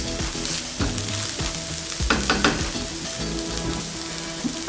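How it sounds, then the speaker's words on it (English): Beef, onions and spices frying over low heat for samosa filling, a dense, steady close sizzle with a few utensil scrapes and knocks mixed in, no talk. "I prefer frying or rather mixing my spices over low heat so that I don't burn my onions, I don't burn my meat."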